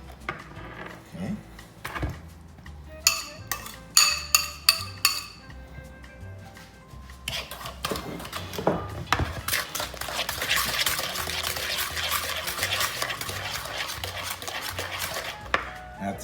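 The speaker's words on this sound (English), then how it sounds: "Now we're going to whisk in the melted butter." A whisk beats melted butter into a mixture in a bowl, starting with scattered sharp clinks and taps, then settling into fast, continuous rhythmic whisking that grows louder and denser, close by.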